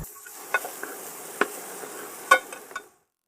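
Onions and mushrooms cook in a pan on a Weber kettle grill, a faint steady sizzle broken by a few light clicks and scrapes of stirring before it drops to silence.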